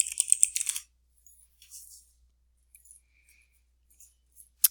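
Keys tapped on a computer keyboard to enter a search term: a quick burst of clicks at the start, then scattered single taps and a sharp final keystroke, fairly close and quiet with no talking.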